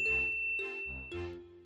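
Notification bell dings as a sound effect: three bright, ringing chimes in quick succession, each struck clearly and left to decay briefly, close and alone.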